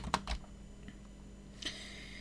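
Typing a command on a computer keyboard while setting up an Ubuntu server, a few soft scattered key clicks in a quiet room, faint and brief with no talking.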